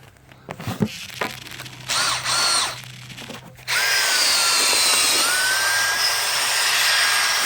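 A power drill whirs in short bursts, then runs steadily at a high-pitched, loud, continuous whine for several seconds; the drill slips loose.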